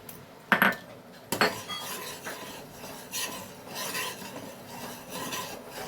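A spoon scrapes and clinks against a pan while grated orange is stirred into a dessert mixture, a few sharp knocks early followed by softer rhythmic scraping, close and fairly quiet with no talking.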